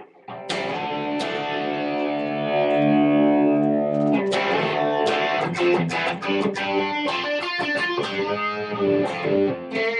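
A distorted electric guitar, a Tele through a Vypyr Pixie amp's distorted channel, plays loud, gritty chords and riffs with sustained notes, then choppier strummed phrases, heard alone without voices.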